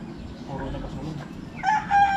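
A rooster crows near a house, its drawn-out call rising near the end over a steady background of noise and some indistinct voices.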